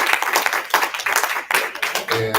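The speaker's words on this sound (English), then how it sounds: "Let's give Terry a round of applause" Audience clapping at a wellness seminar, a close, dense patter of many hands that runs steadily with no talk over it.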